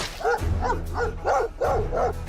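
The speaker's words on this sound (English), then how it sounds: "Unless they're dogs. They're dogs." Dogs bark in the video game Stoneshard, six short barks in a steady rhythm, loud and near, over a low droning background.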